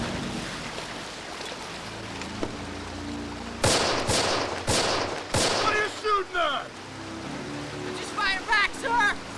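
Gunfire in a 2005 war film: a burst of several loud, sharp shots in quick succession, then further scattered shots mixed with voices and battle noise.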